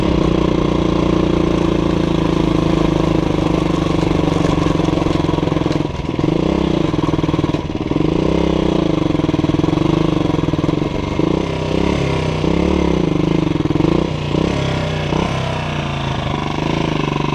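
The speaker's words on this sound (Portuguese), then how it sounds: "A minha moto, ela tá com esse problema na marcha." Motorcycle with a gear-shifting problem climbing a steep dirt road hill in Roraima, Brazil, its engine droning loudly and close, with revs rising and dipping as it labors up the slope.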